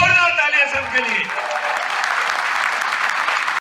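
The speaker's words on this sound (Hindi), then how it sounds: "एक बार जोरदार तालियां सबके लिए" Loud audience applause at a business seminar crowd, starting under a voice that trails off in the first second, then swelling into a dense, sustained clapping that cuts off abruptly at the end.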